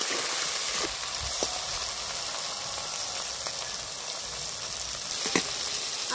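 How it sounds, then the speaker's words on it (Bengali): Soybean chunks fry in hot oil in a wok for a Bengali yogurt soybean dish, giving a dense, continuous, close sizzle with a few faint clicks and no talking. "আমি অল্প অল্প করে ভেজে নেবো সয়াবিনটা।"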